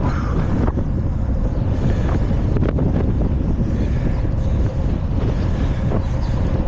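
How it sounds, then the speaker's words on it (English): Strong wind buffeting the microphone in a continuous low roar, gusting unevenly throughout with no voices. "Windy."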